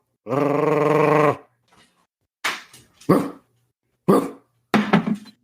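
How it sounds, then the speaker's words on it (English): A dog gives one long, loud drawn-out bark or howl, then a few shorter, sharper barks or grunts close by, with brief pauses between them. "I don't think I'll be able to get Doidle to bark."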